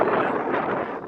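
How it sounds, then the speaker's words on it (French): Strong wind buffets the microphone on an adventure trek northward on foot, a dense roaring rush with gusty swells filling the whole moment up close. "Le vent souffle si fort qu'il est impossible d'entendre ce que je dis"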